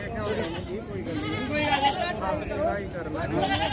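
Goats bleat repeatedly at a busy livestock market in Longowal, Punjab, their wavering calls rising over a dense crowd babble and nearby chatter, loud and close.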